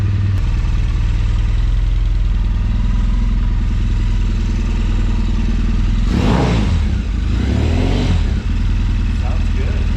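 A Triumph Bonneville engine runs steadily just after an oil change, a close, loud, even motorcycle idle with a pair of brief throttle blips, and voices talk over it.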